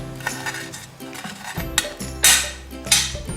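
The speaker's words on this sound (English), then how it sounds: "we're going to chop the dill just as finely as you can" Knife on a cutting board finely chopping fresh dill, with a series of irregular, close, moderately loud taps and clinks spread across the moment, no talking.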